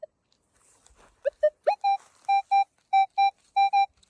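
Metal detector sweeping for coins on an old farmstead gives a run of clear, steady electronic beeps, several short tones and then evenly repeated pulses, loud and close with no talk over them.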